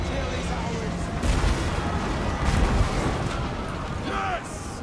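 Mortar artillery fire rumbles through a battle in Total War: Warhammer 2, with dwarf forces assaulting a gate; dense, continuous booms and crackling bursts swell in two louder surges over a steady battle din, with speech present.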